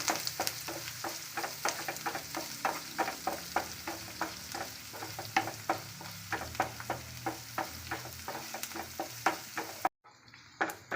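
Onions sautéing in a pan for a Kerala-style banana flower stir fry: a continuous sizzle with a fast, regular scraping rhythm of the spatula stirring, cut off abruptly near the end.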